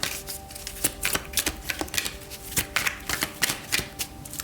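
Tarot cards being shuffled in a series of crisp riffles and soft slaps, moderately close and alone with no talking, the bursts coming in an uneven rhythm.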